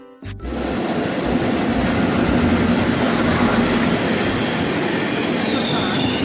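A passenger train rolls into a railway station on a trip from Markapuram toward Vijayawada: a loud, sustained rumble of wheels and carriages starts after a brief quiet moment and carries on steadily throughout.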